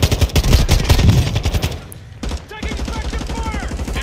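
Rapid gunfire in Call of Duty Warzone, a dense run of automatic bursts, loud and close, pausing briefly before more shots and firing resume, with players talking over the battle.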